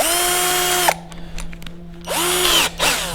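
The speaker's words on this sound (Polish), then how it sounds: "Wiercę sobie tak na oko" Power drill boring holes into an old metal fence being readied for hot-dip galvanizing, a loud whining motor in two bursts with a brief dip to quieter running and pauses between, close up with no talking.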